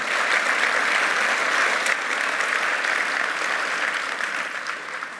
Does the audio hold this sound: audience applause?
yes